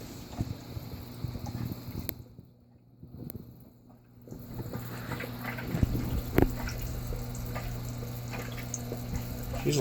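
Water running during an aquarium water change, a steady splashing trickle with a short lull partway through and occasional clinks.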